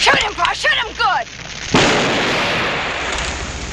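A cannon fires a single loud, booming blast in a Western gunfight, and its long rumbling decay fills the rest of the moment after excited voices are heard shouting just before.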